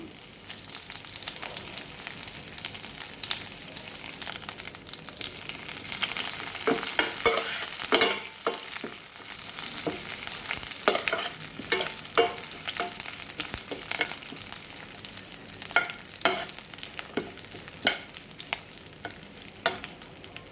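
Steady oil sizzling as garlic and chillies fry for a tempering, with crackly spitting bursts and scattered sharp clicks of stirring, close up and fairly loud, with no voices.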